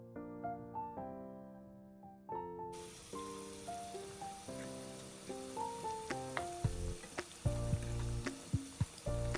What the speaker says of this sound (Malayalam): ആദ്യം പരിപ്പുവട എണ്ണയിൽ താന്നു കിടക്കും, പക്ഷെ കുറച്ച് കഴിയുമ്പോൾ ഇത് പൊങ്ങി വരും.